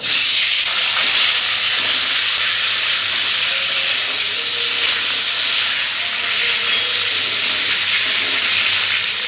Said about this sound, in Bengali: কড়াতে তেল দিয়ে দিব তেল গরম হয়ে গেছে পটলগুলো ভেজে নেবো